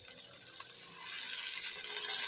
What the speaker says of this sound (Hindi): पानी ऐसे नीचे करके ही ऐड करें तो छींटे नहीं पड़ते थे।